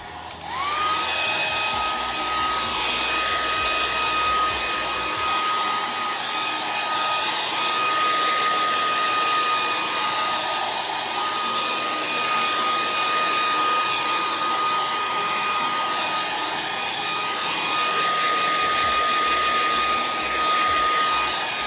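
A hair dryer blows steadily to dry a chalk design, a loud continuous close roar with a faint whine running through it for the whole stretch.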